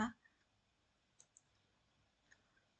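A computer mouse clicks in FORMULA Smartbiz billing software: a handful of faint, sharp clicks spaced apart in a quiet room, after a brief bit of voice at the start.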